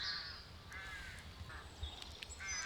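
Birds calling in a quiet Cornwall graveyard at St Uny, Redruth, harsh crow-like caws and chirps repeating over a soft, still background with no talk.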